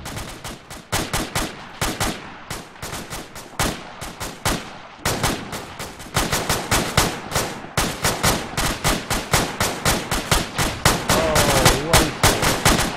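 Sustained bursts of automatic gunfire aimed at a vehicle, loud and close, with rapid repeated shots and short pauses that continue nearly without break and grow denser toward the end.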